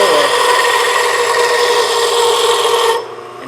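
A continuous, loud rasping scrape comes from a wooden game-call striker being shaped down at its end, sanded or filed steadily for about three seconds before stopping abruptly, with no talking.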